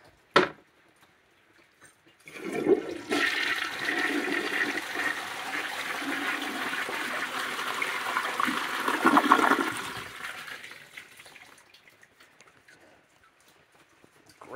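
A 1958 Briggs Ambassador toilet flushes in one quick surge: a sharp click, then about seven seconds of loud rushing water that tapers into a gurgling refill, heard alone up close.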